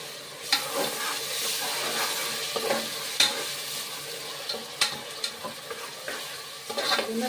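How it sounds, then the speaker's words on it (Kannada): Ginger garlic paste frying and stirred in a pan for mutton biryani, a steady sizzle broken by several sharp scrapes and clinks of the spoon against the pan, close and fairly loud, with no talking. "ಈಗ ಶುಂಠಿ ಬೆಳ್ಳುಳ್ಳಿ ಪೇಸ್ಟ್ ಆ್ಯಡ್ ಹಾಕ್ತಾಯಿದ್ದೀನಿ"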